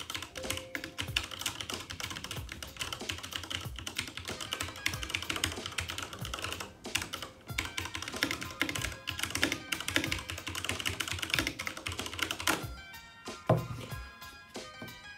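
Typing on an Asus ROG Claymore 2019 mechanical keyboard with red switches, a rapid, continuous patter of close, crisp key clicks and thuds, ending with a few slower, separate keystrokes.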